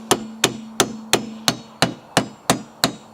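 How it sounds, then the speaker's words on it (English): A tool gives nine sharp, evenly spaced metallic taps to work a BMW 1 Series rear wiper arm loose, each tap close and clear with a brief ring. "I'm gonna give it a bit of a tap."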